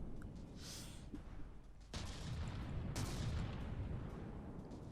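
Heavy naval gun shells fire in a video game battle: two loud broadband booms about a second apart, followed by sustained rumbling and crackle as the salvo continues.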